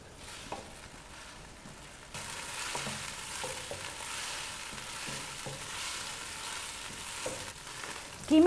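Minced keema frying on high flame with onion and garlic gives a steady close sizzle, brightening partway through, with soft scraping stirs throughout and a brief clatter at the end.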